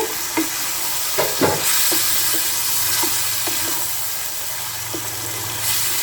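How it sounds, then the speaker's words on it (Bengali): Chicken with cashew paste frying in a pan, giving a steady loud sizzle and hiss throughout, with several soft stirring knocks scattered over it. "কাজু বাদাম পেস্টটা দিয়ে প্রায় মিনিট পাঁচে এটা কষাতে হবে"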